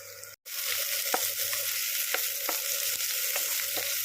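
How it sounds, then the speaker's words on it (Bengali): Chopped potatoes and onions fry in a pan with a steady, close sizzle after a brief dropout near the start. Soft periodic scrapes and stirring taps recur roughly every half second. "আলু আর পেঁয়াজগুলোকে ভালো করে একটু লালচে লালচে করে ভেজে নেব।"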